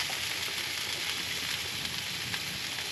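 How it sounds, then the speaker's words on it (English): Bison burgers sizzle and fry on a camp stove over a good flame, a steady, close, broadband hiss with fine crackle running unbroken throughout, no voices. "Oh yeah, that's the sizzle we wanted to hear."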